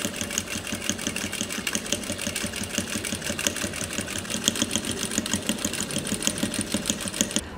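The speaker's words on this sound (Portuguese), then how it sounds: "agora a próxima etapa, vamos costurar toda a volta" A sewing machine stitches steadily around the edge of a Dresden plate patchwork placemat, a fast, even mechanical chatter that runs close and continuous without pause.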